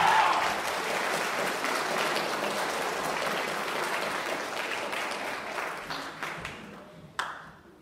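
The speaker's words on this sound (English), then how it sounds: "So everybody give the soloists a round of applause" Concert audience at a school symphonic band spring concert applauds the band soloists, a dense sustained round of clapping that thins and fades toward the end, with a last few scattered claps.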